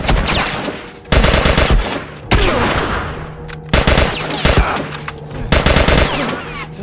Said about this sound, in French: Nouvelle arme, fusil d'assaut